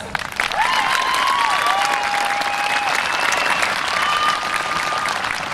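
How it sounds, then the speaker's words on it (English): A high school graduation audience gives a sustained round of applause, dense steady clapping that fills the hall, with faint whoops and cheers rising over it. "Please join me in recognizing the great impact you've had on each and every one of us by a round of applause."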